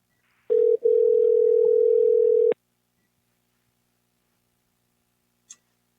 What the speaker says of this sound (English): All right, let's call Dominic back.